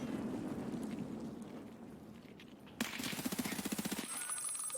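Rapid automatic P90 submachine gun fire in a competitive video game match, a tight burst of evenly spaced shots near the end, following a stretch of muffled game ambience.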